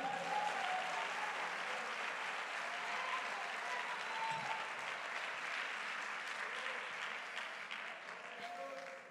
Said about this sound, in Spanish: Demos palmas de alabanza al que vive